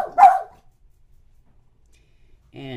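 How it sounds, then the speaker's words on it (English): Household dogs give one sharp, close bark, then the room falls quiet until a voice begins speaking at the end. "because they heard him come in from the garage, all the barking began"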